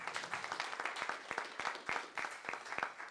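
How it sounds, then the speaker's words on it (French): Audience applauding at a presentation on helicopter-industry careers in Quebec, steady overlapping claps with sharp individual hand strikes standing out, moderately close and continuous throughout. "J'aimerais qu'on l'applaudisse également."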